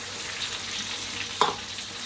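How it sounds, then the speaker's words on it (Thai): Pork fries in oil with a steady, close bubbling sizzle, interrupted once by a sharp scrape or clink, and nobody speaking. "ทอดหมูนิ่มๆนะครับ"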